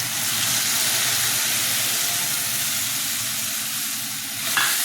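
Onion and spices sizzle and crackle in hot oil in a pan, the base for a Bengali moong dal with fish heads. A steady, close, dense frying hiss runs throughout with no talking.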